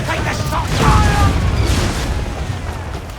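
Ship cannons firing in the video game Assassin's Creed 4 Black Flag: a loud, continuous rumbling barrage of booms that swells and then slowly trails off.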